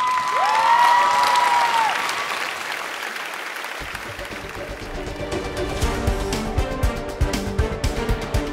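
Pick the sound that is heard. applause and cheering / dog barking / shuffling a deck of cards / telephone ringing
applause and cheering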